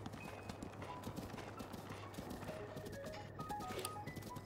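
Horse hooves clip-clop in a quick, steady gallop through Breath of the Wild game audio, with a brief whinny and faint game sounds layered over the rapid hoofbeats.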